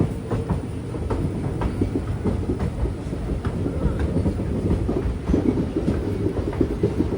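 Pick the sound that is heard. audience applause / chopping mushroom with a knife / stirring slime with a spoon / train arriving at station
train arriving at station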